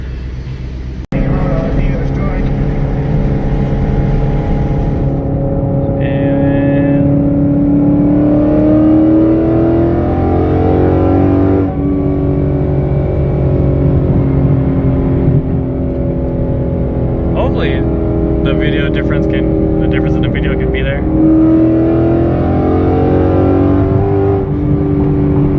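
A Ford Mustang S550 running E85 accelerates hard on a highway, its engine droning loud and close from inside the car, pitch climbing through gears with brief dips at shifts while someone talks intermittently.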